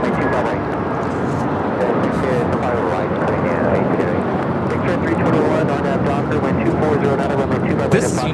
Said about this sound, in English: 1488 taking off to Newark on the 757-200